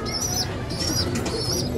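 High-flyer pigeons coo softly nearby in a few repeated, rolling calls over a constant low background rumble, with no one talking.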